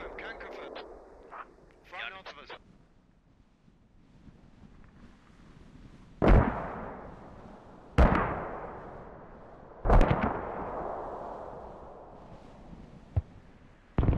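In the video game Squad, mortar shells land and explode. Three heavy booming blasts come a couple of seconds apart, each with a long rumbling decay. Brief gunfire cracks and voices come before them, and a fainter thud follows.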